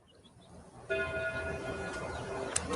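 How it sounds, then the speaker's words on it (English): A church bell strikes with a sustained ringing tone that hangs in the air, steady and moderately loud after a quiet start. "At that moment, the church bells began to ring."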